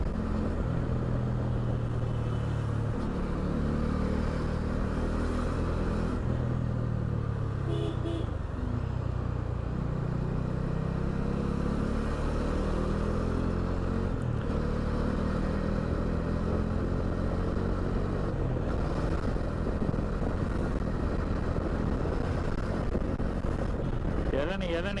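Continuous Delhi road traffic heard while riding a motorcycle on the Agra to Delhi route, a loud steady engine drone with shifting rumbling tones, passing vehicles and wind noise, with a person talking over it.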